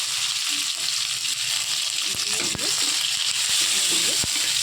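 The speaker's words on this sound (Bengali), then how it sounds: "এই তেলের মধ্যে শুকনো লঙ্কা, পাঁচ ফোড়ন আর আদা দিয়ে একটু নাড়াচাড়া করে টমেটো দিয়ে দেবো।" Dried chilli, panch phoron, ginger and tomato sizzle in hot oil in a kadai, a steady crackling hiss with scattered soft clinks from stirring.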